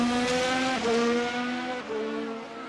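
A race car in a racing video game runs through gravel during an Emilia Romagna Grand Prix, its engine a loud, steady, high whine that dips briefly mid-run, with no voices.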